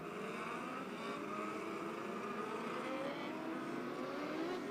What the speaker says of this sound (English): Pit gate opens up and off goes the number 55 of Sam Lamoth.